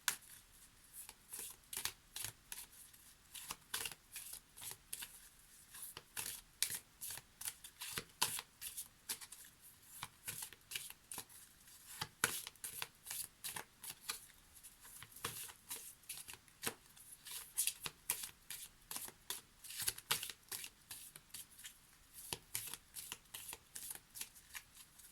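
Tarot cards are shuffled close up in a steady, rapid riffle, with repeated crisp card slaps and flutters going on without pause.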